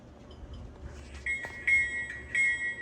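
A small electronic bell on a Scaletrains BNSF Dash-9 model locomotive rings several times in quick repeated strikes, thin and metallic, over a low mechanical hum.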